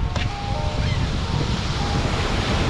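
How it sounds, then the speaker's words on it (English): Wind gusting across a beach where fish is being cooked outdoors, a steady broadband rush with surf-like roar filling the whole span, loud and continuous with no voices over it. "As it's blowing in the wind."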